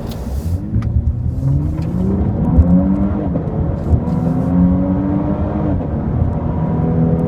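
A car drives steadily with a loud, continuous engine whir and rising and falling revs, the tone sweeping up through gear changes, heard close with no voices.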